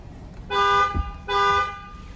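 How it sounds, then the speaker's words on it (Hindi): Horn of a Jeep Grand Cherokee SUV sounding two firm, loud honks, each about half a second long with a short gap between them, and no talking over them. "अगर मैं आपको इसका हॉर्न सुनाऊँ"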